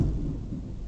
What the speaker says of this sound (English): We're having a thunderstorm right now.